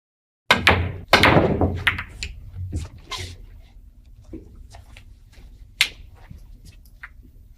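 Pool balls in the PlayStation game Virtual Pool, with a sharp cue strike followed by a rapid cluster of clacks and thuds as balls collide and roll, then sparse, fading knocks and one more crisp click later.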